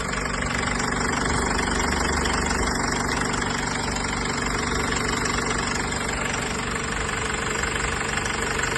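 A 2012 Honda CR-V engine idles steadily and loudly, with a constant rumbling knock and vibration throughout and no voices.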